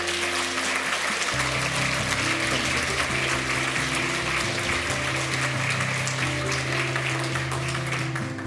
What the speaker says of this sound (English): A round of applause for Peyo.